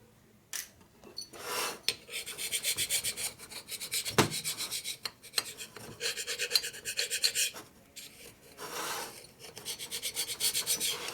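Scraper rasping over a motorcycle engine part from a 1990s Harley Sportster 1200 top end, repeated short scraping strokes in bursts with pauses between, close and fairly quiet, no talk.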